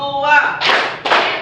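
A class of junior high students claps in unison as a classroom clapping routine, with a voice first, then two sharp, loud group claps in quick succession.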